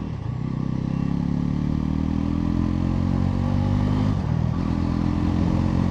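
A Bajaj Pulsar NS400Z 2025 motorcycle running in sport mode, its steady mid-pitched engine drone rising and then dipping briefly as a gear is shifted without the clutch, close and with no talk.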